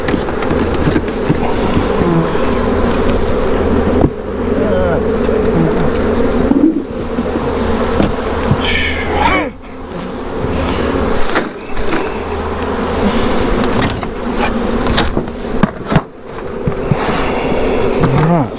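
Honey bees buzz steadily and densely at close range while a hive is split, a constant swarming drone that runs almost unbroken, with a few brief dips.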